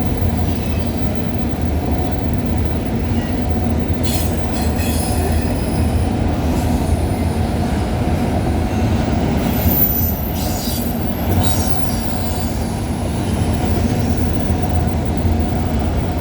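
Freight train 133, with DPU locomotive 8942, rolls past at night at Cobourg VIA station in Ontario: a steady, close rumble of wagons with several bright wheel squeals and faint rhythmic clacking throughout.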